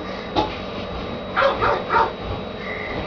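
A small dog yips and barks in short bursts, one early bark then a quick cluster of three or four higher yelps, close by in a quiet indoor room.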